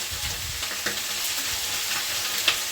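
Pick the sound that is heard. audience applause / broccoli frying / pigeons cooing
broccoli frying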